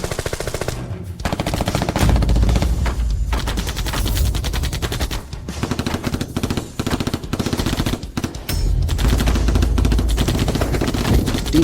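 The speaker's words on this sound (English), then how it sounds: "AK unit, open fire." An AK rifle unit fires in sustained automatic bursts on a battlefield, a loud, dense rattle of rapid shots that carries almost without pause, broken by a few brief gaps, over a deep rumbling backdrop.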